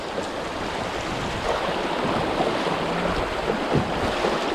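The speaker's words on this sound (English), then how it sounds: "See how the Seaghost likes these rapids" A Vibe Seaghost 130 kayak running river rapids in the Ozarks: continuous broad rushing water with wind buffeting the microphone, steady and close throughout, with no speech.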